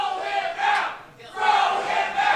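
A video game wrestling crowd chants at a wrestler during a battle royal match, a loud, sustained roar of many voices that dips briefly and swells again.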